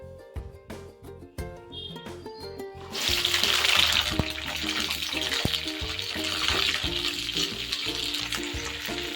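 Green chillies hit hot oil in a pan while making cucumber chutney, a few clinks and taps giving way to a loud, steady sizzling fry that continues to the end.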